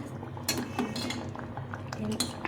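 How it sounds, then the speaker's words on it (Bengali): Boiled mung dal being mashed and stirred in a metal pot with a spoon, close clinking and scraping strokes in an uneven rhythm, with faint background noise. "ডালটা একটু ঘেটে নেবো ভালো করে"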